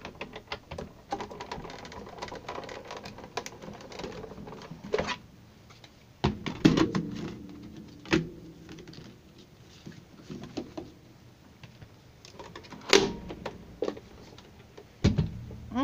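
A die-cutting and embossing machine rolls paper between plates with a quiet, uneven clicking and rattling, broken by a few sharper thuds as the plates are handled and passed through.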